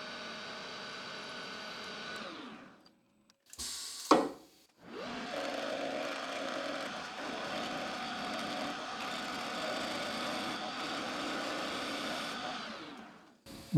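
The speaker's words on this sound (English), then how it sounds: "Now I can center drill it." A CNC lathe center drills a piston blank: a steady machining whir runs, stops briefly with a sharp knock, then resumes as a long, even drone before cutting off, with no talking.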